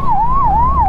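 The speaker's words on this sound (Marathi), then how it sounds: "खूप जास्त सायरन मारताय ते" Wailing ambulance siren sweeping up and down in steady cycles, loud and close amid road traffic, with no talking over it.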